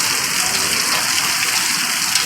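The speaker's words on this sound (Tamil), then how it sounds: "சரியான மழை பெய்யுப்பேன்" Heavy rain pours down steadily outdoors, a loud, dense, unbroken hiss of drops with no pauses and no voices.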